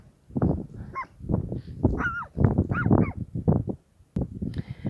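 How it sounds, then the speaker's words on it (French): A small dog barks in a quick series of short, sharp yaps close by, several in a row with brief pauses, then falls quiet. "il y a un chien là qui m'a repéré."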